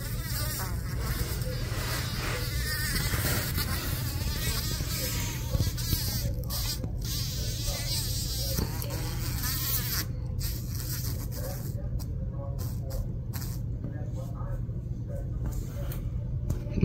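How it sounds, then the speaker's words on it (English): A bee trapped in a black widow spider's enclosure buzzes close by in irregular bursts, its drone rising and cutting out repeatedly over a steady low background hum. "And it looks like the bee is about to escape."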